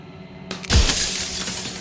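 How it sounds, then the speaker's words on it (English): Mirror glass shatters in the video game Slay the Princess, one sudden loud crash followed by a spray of tinkling shards that slowly fades, with no talking. "And then another crack forms, and another, turning the mirror into jagged shards of broken glass."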